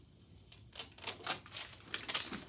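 Oracal 651 or 631 vinyl car decal on Cricut transfer paper is peeled away by hand, giving quiet, crackly ripping bursts that come in uneven pulses up close.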